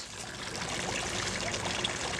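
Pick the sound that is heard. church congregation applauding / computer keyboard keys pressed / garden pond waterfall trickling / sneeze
garden pond waterfall trickling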